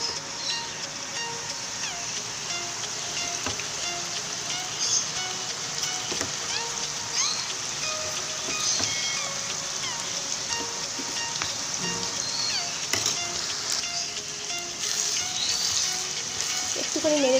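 Ridge gourd and fried potatoes cook with poppy seed paste in a traditional Bengali dish, giving a steady, crackling sizzle like light rain, with occasional clicks of a utensil throughout.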